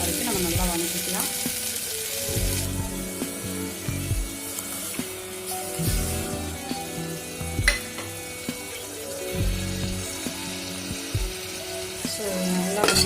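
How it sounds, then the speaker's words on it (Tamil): Tomatoes and paste sauté in hot oil for tomato biryani, a loud steady sizzle with intermittent scraping and stirring strokes from a spoon in the pan, close up and with no talking. "அந்த பச்சை வாசம் 2 போக வரைக்கும் நம்ம நல்லா வதக்கிக்கலாம்"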